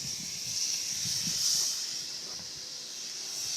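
Crappie fillets sizzle loudly in hot oil in a skillet, a steady close hiss that swells briefly, with faint low bumps beneath and no speech.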